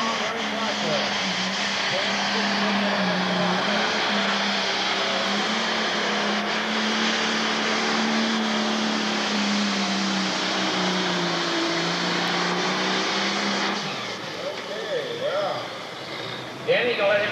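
A pro stock tractor roars through a long, loud run at a 1992 county fair tractor pull, a sustained droning engine that holds steady before easing off near the end, with announcer talk over it.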